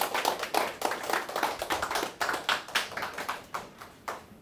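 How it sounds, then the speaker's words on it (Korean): Audience applause welcoming a speaker to the stage at a suicide-awareness forum, heard as a steady run of claps that stays fairly even, then thins toward the end. "힘찬 박수로 모시겠습니다"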